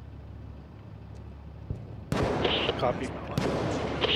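Gunfire from Six Days in Fallujah, a sudden loud burst of shots and impacts breaking in after quiet ambience, with a brief spoken word over the combat noise.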